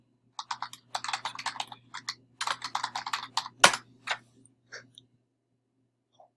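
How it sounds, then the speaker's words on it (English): Fingers type a class name on a computer keyboard, a quick run of soft key clicks in uneven bursts, then a few isolated taps tapering off in a quiet room. "I'm going to type the name of the class."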